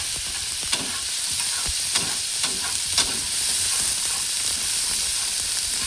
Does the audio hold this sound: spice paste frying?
yes